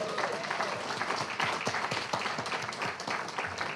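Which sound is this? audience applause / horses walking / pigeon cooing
audience applause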